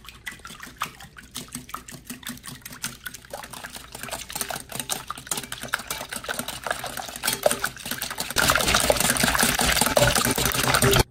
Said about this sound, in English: Now we're just gonna whisk. Whisk all this up real quick.